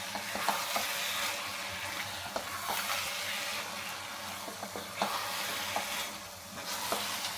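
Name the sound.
stirring carrot halwa with ghee and dry fruit garnish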